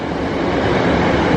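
A South Western Railway train rolls past a station platform on a rainy day, a steady, loud rumble of wheels and carriages that holds for just over a second.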